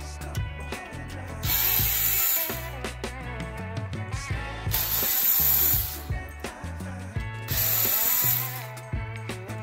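Phillips head screws are loosened from the power supply of a twenty-year-old Sony PlayStation 2, with repeated close ratcheting clicks in bursts separated by brief pauses, over a steady tonal background layer.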